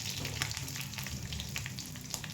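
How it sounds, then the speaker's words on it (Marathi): Two large green chilies cut into big pieces frying in oil, a busy crackling sizzle with spattering pops over a low hum, close and continuous, no talking. "आता ह्या घालून घ्यायच्या चांगलं तळून द्यायचं मिरच्या"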